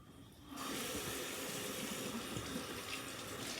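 Warm water runs from a bathroom tap during face washing, starting abruptly after a quiet moment and then pouring in a steady, close hiss.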